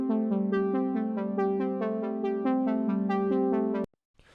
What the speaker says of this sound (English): So this is a really analog sounding pluck already.